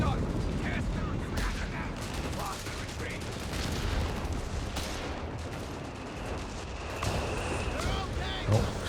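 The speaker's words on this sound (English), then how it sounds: "It's the creeping barrage." Creeping artillery barrage in Company of Heroes 3, a dense continuous rumble of shell impacts and gunfire filling the whole stretch, with voices talking over it.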